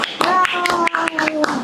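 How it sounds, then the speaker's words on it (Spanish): Scattered audience clapping for a guest personal-finance expert at a talk event, sharp uneven claps running through the whole stretch alongside voices and a tonal background. "Recibamos con aplausos a nuestro amigo financiero, Anthony Calderón."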